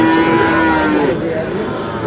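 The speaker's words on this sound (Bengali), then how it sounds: "ষাঁড় বাচ্চা" A Sahiwal bull calf at a busy cattle market gives a long, loud, close moo that wavers and fades, with crowd noise behind it.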